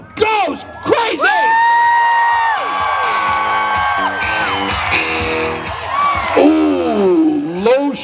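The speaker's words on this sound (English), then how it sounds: "And the crowd goes crazy." A festival crowd at a Renaissance fair jousting match erupts in loud, sustained cheering, with long rising whoops and yells from many voices, close and continuous throughout.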